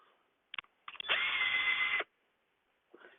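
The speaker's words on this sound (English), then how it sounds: "So now I will drill them all" A power drill bores holes in bird condo doors outdoors in cold weather: a few short trigger blips, then about one second of steady whining drilling, and a faint brief burst at the end.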